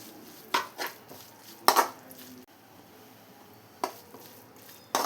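Beef curry masala with curry leaves is stirred in a pan for a thick Kerala-style gravy: a few scattered spatula scrapes and metal clinks against the pan, separated by quiet stretches.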